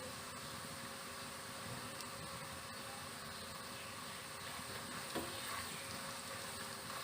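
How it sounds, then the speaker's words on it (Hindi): Cumin seeds fry in a pan for a moong dal bhaap badi curry, giving a faint, steady, continuous sizzle without pauses or speech. "इसे फ्राई करेंगे। वन टीस्पून क्यूमिन ऐड करेंगे।"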